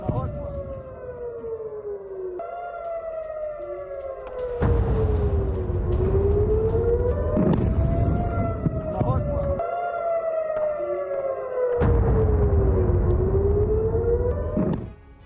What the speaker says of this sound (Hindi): नॉर्थ इजराइल में एयर रेड अलर्ट